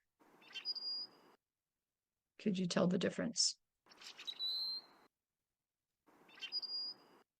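Recorded male songs of a forested wetland bird, played back as three short, separate phrases with sharp whistled notes over a buzzy trill. A brief spoken question falls between the first and second songs.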